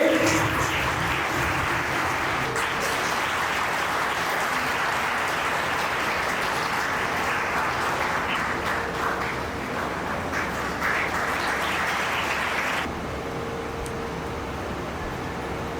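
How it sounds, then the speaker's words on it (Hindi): A seminar audience at a placement and self-employment drive claps steadily and continuously to welcome guests onto the stage, a moderately loud, even wash of applause that thins slightly near the end. "प्लीज तालियों के साथ सबका स्वागत करेंगे।"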